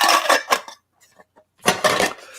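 A camping cook pot and frying pan are handled, giving two short bursts of metallic clanks and scrapes separated by a near-silent pause, close and fairly loud, with no talk.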